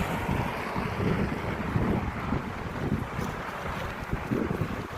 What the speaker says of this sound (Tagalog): grabe ang alon oh ang ingay ng alon hampas ng alon